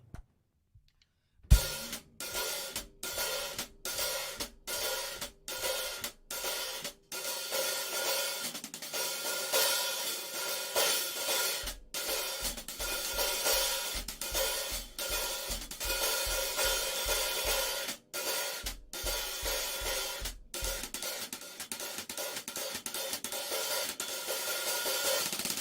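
Drummer playing time on hi-hat cymbals in an open, closed, crescendo pattern, a steady run of crisp bright strokes with swells into beats one and three, heard alone and close up.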